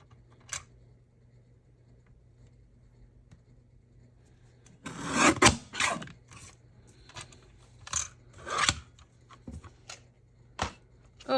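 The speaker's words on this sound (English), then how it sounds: "I may trim a sliver more off the top because it's not quite even" Scissors trimming a sliver off the top edge of a handmade Christmas card, heard as a few close, crisp snips and paper rustles after a quiet start.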